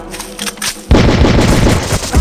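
A loud, close gunshot blasts from a handgun in the game Outcast, followed by rapid repeated fire and a booming, reverberant tail after a quieter lead-in.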